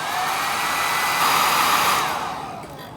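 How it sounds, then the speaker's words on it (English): A roughly 35-year-old Philips 1400 hair dryer blows on high heat to soften Monster Clay on a sculpted bust, a loud steady broadband whoosh that swells slightly midway and then tapers off near the end. "I think this hair dryer is about 35 years old, and it just keeps plugging along"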